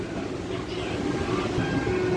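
An MMTS local commuter train pulls into Chandanagar railway station in Hyderabad, with a steady, loud rumble of wheels and carriage noise and faint high squeals running throughout.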